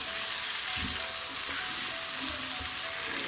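Tomatoes, spices and whole cumin fry in a pan for a spiced eggplant dish, giving a steady, close, continuous sizzle with faint stirring scrapes and no talking.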